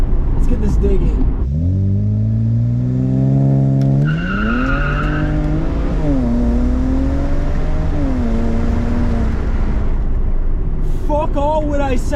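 A BMW 335i all-wheel drive with a VRSF intercooler and extra boost launches hard with its wheels spinning: a loud, close engine note climbs steadily for several seconds, with a brief high tire squeal partway through.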